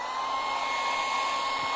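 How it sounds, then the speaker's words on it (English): A hair dryer blows steadily on a stencil transfer for a hydrangea welcome sign craft, a continuous close whirring hum with a faint whine and no talk. "I'll let you just look at that while I just hit this with the hairdryer"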